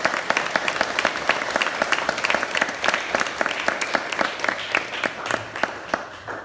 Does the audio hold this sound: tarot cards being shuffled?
no